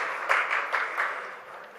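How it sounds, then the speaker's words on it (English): Audience applause at a CEO panel conclave at an oil and gas industry conference in New Delhi, a steady wash of many hands clapping in a hall with a few louder surges, fading slightly toward the end. "A big round of applause, please."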